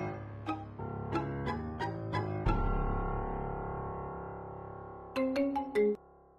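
A mobile phone ringtone chimes in a Marathi TV serial scene, playing a repeated melodic tone pattern clearly and at close range, then holding a sustained chord before a final burst of bright chimes.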